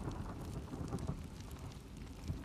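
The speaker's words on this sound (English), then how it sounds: "And here comes the storm." Steady rain and a low rumble of thunder from a thunderstorm in the video game The Last of Us Part II, a dense continuous wash of falling water with soft deeper rolls underneath, heard at a moderate distance.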